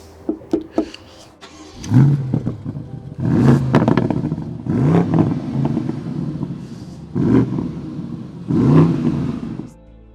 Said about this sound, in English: let's check out how this BMW M550i sounds